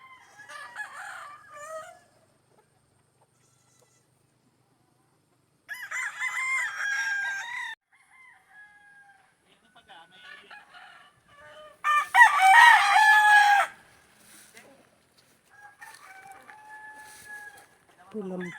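Chickens and roosters in a farm yard, with several loud rooster crows and scattered clucks spaced out across near-silent stretches, someone speaking briefly between them.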